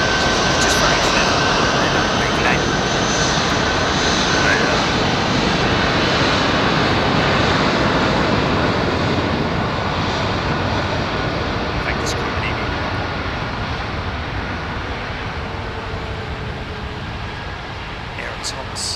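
A Qatar Airways Boeing 777 jet airliner roars continuously overhead, a broad, loud engine rush that fades gently over its length.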